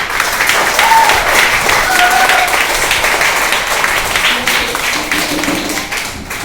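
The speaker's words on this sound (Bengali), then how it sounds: "তোমরা সবাই একটা জুড়ে হাততালি দাও।" Sustained loud applause from a crowd at a school function, many hands clapping together close by for the whole stretch without pause.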